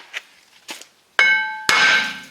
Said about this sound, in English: bang the rotor off